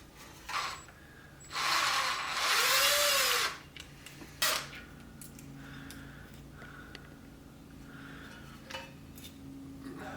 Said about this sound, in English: we're going to remove all 10 of these screws